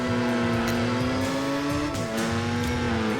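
Toyota Supra engine in the Gran Turismo 4 racing game, a loud, continuous revving drone with shifting pitch and a brief dip as the car shifts gear, alone without talk.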